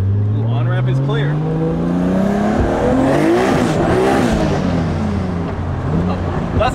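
A 1000hp Toyota Supra accelerates hard on an on-ramp, its engine note rising through the gears with loud, close revving and brief tire noise, while people talk over it.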